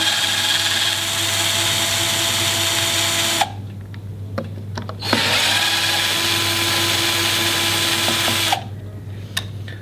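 Cordless power drill undoing the screws on an electric skateboard deck, a steady close whine running in two long bursts separated by brief pauses with small clicks and handling noises.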